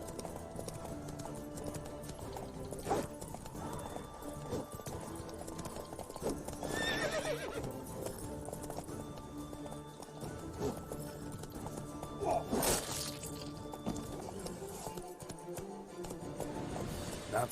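Roach, the horse in The Witcher 3 video game, gallops with steady clip-clop hoofbeats and whinnies loudly several times over game music and ambience.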